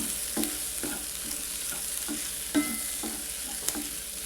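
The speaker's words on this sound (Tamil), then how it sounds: "இப்போ பாருங்கள் எல்லாத்தையும் சேர்த்து நம்ம கலந்துக்கலாம்" Bread egg masala being stirred in a hot pan, rhythmic scraping strokes of a spoon every half second over a light constant sizzle, close up with no talking.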